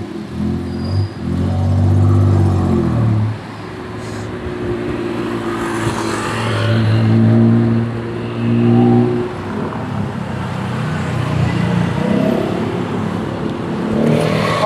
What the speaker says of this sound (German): eine Tuk-Tuk-Fahrt gehört in Bangkok irgendwie dazu